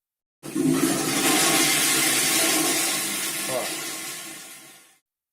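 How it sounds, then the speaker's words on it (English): A clogged toilet flushes with a loud, close rush of water that surges steadily for about four seconds, then tapers off and stops. "I'm going to flush it."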